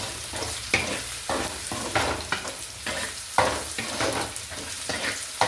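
Cooked rice being sautéed in a kadai, a spatula scraping and tossing it in quick repeated strokes over a soft, steady sizzle of frying, close and fairly loud with no talking.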